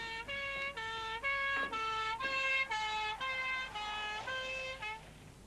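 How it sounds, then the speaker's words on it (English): A police car siren sounds in a rapid, evenly pulsed two-tone pattern with horn-like blasts, loud and close throughout, with no talking. "It's a police car."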